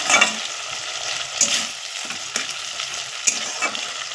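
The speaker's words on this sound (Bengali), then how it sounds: "ভাজা হয়ে ভালোভাবে মশলাটা।" Spice paste with tomato fries in a pan under a steady hiss, with spatula scrapes and stirs cutting in at intervals, close and fairly loud.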